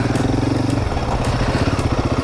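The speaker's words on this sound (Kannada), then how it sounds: "so let's start the bike" Motorcycle engine running close by, a loud steady rhythmic putter that shifts pitch partway through, with no voices over it.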